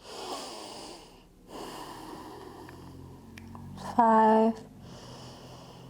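A yoga student breathing while holding wheel pose: slow, audible breaths and a wheezy exhale close to the microphone, with a voice briefly counting under them.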